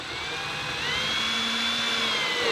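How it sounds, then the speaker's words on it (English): A power drill drives a self-tapping screw straight into a plastic kayak hull without a pilot hole, giving a steady whining motor tone that climbs slightly in pitch and holds for a couple of seconds, fairly close. "just send it home with the self-tapping screw"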